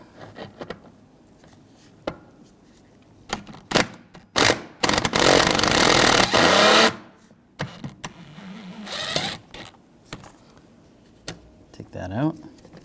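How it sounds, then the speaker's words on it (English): Socket wrench work on a 2006-2009 Mercedes-Benz E350 3.5L V6 engine bay: a T30 socket loosening a bolt gives sharp metallic clicks and ratcheting clatter. A dense burst of grinding and rattling runs through the middle, with scattered taps before and after. "I'm going to use a T30 socket."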